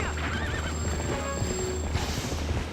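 A horse in the video game Zelda: Twilight Princess gives a loud, wavering whinny up close, followed by clip-clop hoofbeats and snorts against a low steady hum.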